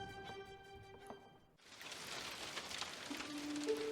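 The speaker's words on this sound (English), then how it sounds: "The rhythm of raindrops landing on the old roof woke me from a dreamless slumber." Rain patters on an old roof, a faint, soft and even hiss that starts abruptly after a brief lull, following tonal game-like chimes, with a low humming tone near the end.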